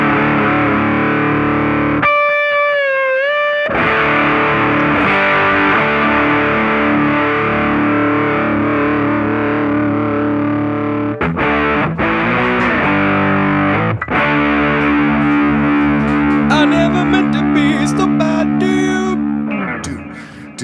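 Electric guitar running through a Strymon DIG delay and a DMB Stellar Drive overdrive, a thick, mid-heavy Marshall-like crunch with sustained distorted chords and repeating delay trails, loud and continuous with a brief gap of single notes.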